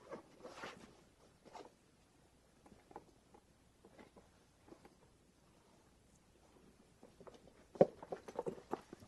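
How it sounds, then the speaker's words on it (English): Zipper on a Laurel Burch Three Amigos travel tote bag being pulled open, several short soft rasping bursts close by in a quiet room, with a denser flurry of fabric and zip noise near the end. "And it opens with a zipper"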